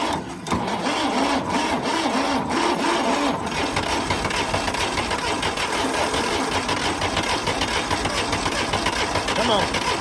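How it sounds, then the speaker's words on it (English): A Ford Escape's diesel-style engine cranks continuously after its glow plugs are heated, giving a loud, rapid mechanical churning that runs for the whole stretch as it tries to start, with a voice heard over it. "I'm gonna glow plug it, and we'll be back in a second for the crank."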